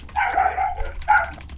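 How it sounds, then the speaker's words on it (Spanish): Dogs bark nearby in two short bursts of yapping, the second shorter than the first, over a low steady hum. "Mira, ves, estoy escuchando perros."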